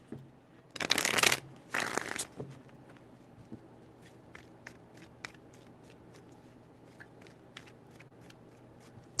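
Tarot cards riffle-shuffled twice in quick bursts, then softer scattered taps and card handling in a quiet room.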